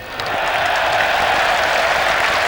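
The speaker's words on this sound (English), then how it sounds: "Darren Gough at least gave the crowd something to cheer about." Crowd at a Lord's cricket Test between England and Australia cheering and applauding, a dense, steady roar of clapping that swells in quickly and holds loud throughout.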